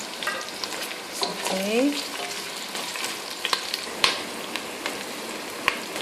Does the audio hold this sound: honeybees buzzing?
no